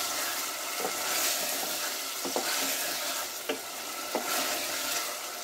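Country chicken with ginger-garlic paste being stirred and fried in a pan, a loud continuous sizzle broken by several sharp spatula scrapes, close up with no talking.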